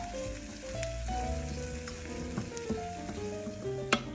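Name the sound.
tomatoes and shallot cooking gently in a pan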